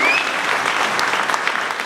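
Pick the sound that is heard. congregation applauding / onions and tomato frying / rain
congregation applauding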